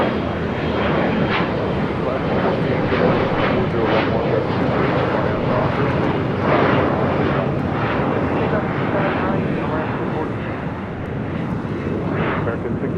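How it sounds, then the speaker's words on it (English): An EVA Air Boeing 777-300ER on short final for runway 24 Left at LAX gives a loud, continuous jet roar that swells and eases slightly, with faint voices underneath. "let's swing to the north side is the EVA Air 777-300ER. Now short final for 24 left"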